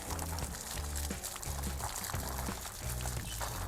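Water pours and splashes steadily for washing freshly dug black turmeric at a farm plot, a continuous close gush with faint bird calls in the background and no talk.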